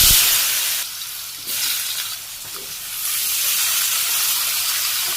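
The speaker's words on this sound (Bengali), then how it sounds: "এদিকে কড়াই তেল গরম হয়ে গেছে, আমি আলুগুলো দিয়ে দিই।" Potatoes go into hot oil in a wok and hiss loudly and steadily, the broad sizzle dipping briefly and then swelling again, heard close with no talking.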